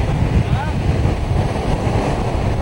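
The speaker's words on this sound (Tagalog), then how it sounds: "kasabay ng pagbayo ng malakas na hangin, ang paghampas ng alon sa dagat" Strong typhoon wind buffets the microphone over a constant roar of surf, with waves breaking heavily nearby on the coast of Luzon, Philippines.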